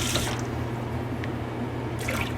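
Warm water pours into a bowl of freeze-dried morels in a kitchen, a short close splash followed by a steady liquid trickle over a low background hum, then a second brief pour.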